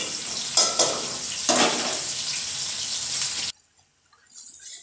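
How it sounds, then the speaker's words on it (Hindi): Onions browning in hot ghee for chicken pulao give a steady, close sizzle with a couple of louder crackles, then cut off abruptly to near silence before faint noise returns. "इधर हमारा प्याज ब्राउन हो रहा है"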